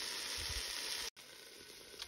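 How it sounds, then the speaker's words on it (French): Spiced sauce with salt, pepper, smoked paprika and garlic powder simmers in a saucepan on the stove, giving a constant close sizzling hiss that briefly cuts out before resuming. "je laisse mijoter ça pendant environ 5 minutes"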